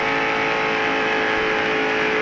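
Stock car engine in the 1993 Pepsi 400 race at full, steady revs, a dense continuous roar with racing traffic behind it.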